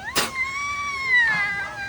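A person imitates a cat's meow with a drawn-out, wavering nasal call after a short sharp onset, loud and close, standing alone without other talk.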